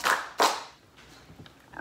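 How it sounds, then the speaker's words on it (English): Children clap twice together during a story-time action song, two sharp close claps followed by faint scattered taps. "If you're happy to be here, clap your hands."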